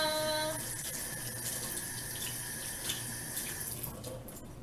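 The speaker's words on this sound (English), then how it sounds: "We're going to wash our hands, las manos." Water runs steadily from a kitchen tap for hand washing, a continuous close hiss and splash with no speech, easing slightly toward the end.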